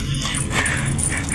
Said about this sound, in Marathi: त्या कुत्र्याला सोडून ते थोडंसं बाहेर फिरवत आहेत